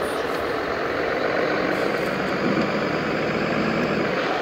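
Slow truck engine droning steadily in a truck driving simulator game, a continuous low rumble with broadband road and motor noise, constant and fairly loud throughout with no voices.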